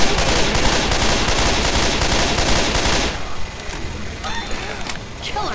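Rapid automatic gunfire rattles loud and dense in a Left 4 Dead 2 match for about three seconds, then drops to scattered shots and game noise, with players' voices chattering over the fight.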